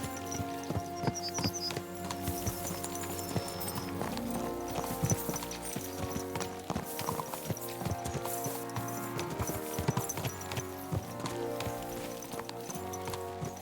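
Horses' hooves pound in a fast, steady clip-clop gallop in the game Kingdom Come: Deliverance 2, loud and continuous, with clattering and layered game ambience throughout.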